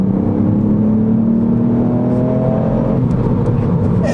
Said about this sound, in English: When you get your foot down past halfway and you engage that third cylinder, it sounds like a 911